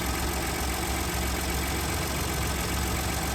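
A car engine idling just after being started, a close, steady mechanical drone with a faint knocking texture and no voices.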